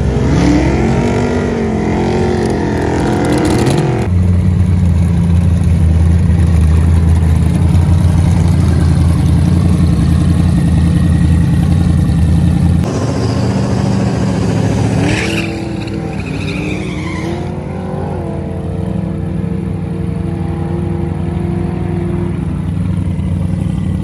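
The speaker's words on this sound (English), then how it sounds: "Seeing my car go down the track." A twin turbo Camaro ZL1 roars down a drag strip, its engine loud and close, a strained rising pull that cuts out abruptly, then a second, fainter pass with shifting pitch as the car recedes.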